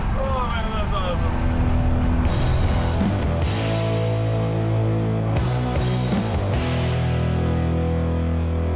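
A 1975 Chevy C10 truck swapped to a 6.7 Cummins diesel with a 48RE transmission and a 9-inch rear end, doing a burnout: a loud, sustained engine roar with shifting pitch and tire noise, close by.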